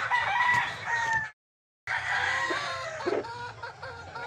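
A gamefarm brood stag, a rooster of medium to high station, crows loudly and close in two long strained calls separated by a short silence, with faint clucking and farmyard noise underneath.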